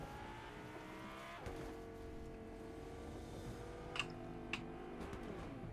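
A car drives in the Fortnite battle royale game, with a continuous engine drone that shifts pitch as it speeds up and slows, plus a couple of short sharp clicks near the end.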